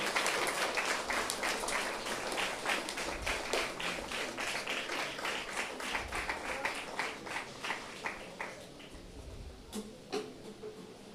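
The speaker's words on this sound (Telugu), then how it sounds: "అందరూ కూడా గట్టిగా చప్పట్లు కొడదాం." An audience claps loudly at a Catholic church novena festival for Gunadala Mata, a dense, continuous patter of many hands that thins toward the end into scattered individual claps.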